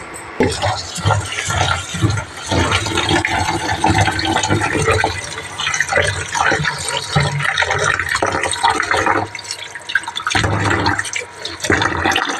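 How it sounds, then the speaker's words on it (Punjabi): Water sloshing and splashing steadily as rice is washed, with rough swishing and a voice talking briefly over it. "ਪਹਿਲਾਂ ਆਪਾਂ ਚੌਲ ਲਵਾਂਗੇ ਧੋ"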